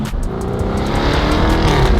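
A Jaguar supercar pulls away hard under launch control, its engine a loud, close, steady roar that builds slightly over two seconds, with no talking.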